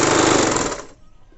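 A sewing machine stitches a straight seam in fabric for a small girl's top with a loud, rapid needle chatter. It runs close and then stops abruptly just before a second, leaving a faint quiet tail.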